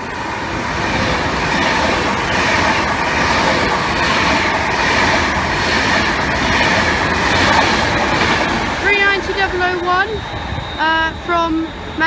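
A train rumbles and clatters through Cheddington station on the West Coast Main Line, loud and close, with wheel noise building into squealing brakes as it slows to a stop, and a voice talks over it.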